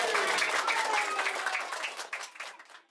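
Audience applause at a political campaign event for a DPR candidate, brisk clapping that starts strong and fades out over a few seconds.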